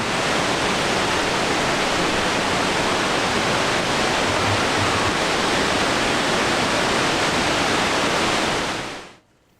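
Noccalula Falls, a waterfall in Alabama, gives a loud, dense, continuous rushing roar heard up close. It holds steady for about nine seconds, then cuts off abruptly.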